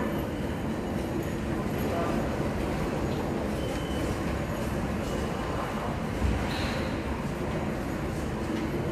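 Train noise inside Gare du Nord station in Paris: a steady, loud rumble of rolling rail cars with faint wheel squeal, continuous throughout, with a brief clunk near the end and indistinct voices in the background.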